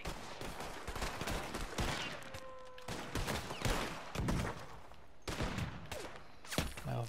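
Gunfire rings out in the video game Red Dead Redemption 2, a dense fusillade of rapid overlapping shots, some close and sharp, others further off, with brief gaps between bursts.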